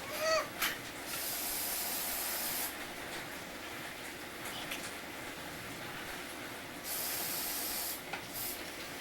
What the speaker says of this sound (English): I have some clear coat that I'm going to put on there.